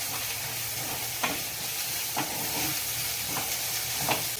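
A spoon works through a spice masala of chilli powder, coriander and cumin powder with ginger-garlic paste in a hot pan for egg curry, a soft continuous sizzle broken by a few light scraping strokes, nobody speaking.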